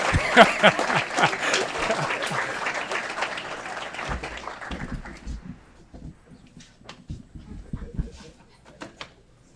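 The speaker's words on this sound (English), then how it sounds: "Big round of applause for all of our former chiefs here in the city of Aurora" Audience at an Aurora city council meeting gives a big round of applause for former police chiefs, dense clapping strongest at the start and thinning into scattered claps with a few voices by the end.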